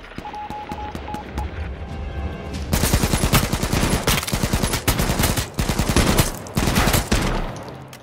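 AK rifle gunfire in the survival shooter game H1Z1, loud rapid bursts of automatic shots in several clustered volleys, close and punchy, with brief gaps between bursts and no talk over them.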